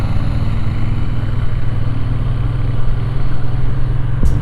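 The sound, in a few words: motorcycle stock exhaust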